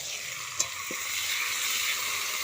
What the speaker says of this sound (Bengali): এই তেলে বেগুনগুলো ভেজে নেব।